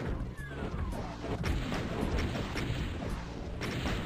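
Gunfire and heavy blasts in a first-person shooter game fighting a Cyberdemon, several sharp shots and booms with a rumbling backdrop, fairly faint overall.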